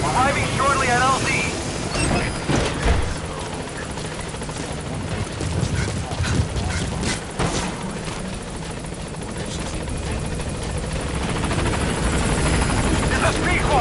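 The Pequod support helicopter in Metal Gear Solid V approaches a landing zone, rotor thrum and turbine drone loud and continuous throughout, with a radio voice speaking over the engine noise.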